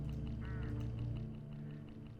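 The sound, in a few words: hooded crows calling in video game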